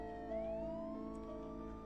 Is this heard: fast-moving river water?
no